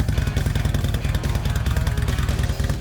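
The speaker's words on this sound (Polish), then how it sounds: "Dźwięk motocykla to tak jakby odpalić ulubioną płytę zespołu rockowego." A motorcycle engine runs close by, a loud, steady, throbbing rumble with rapid low pulses throughout.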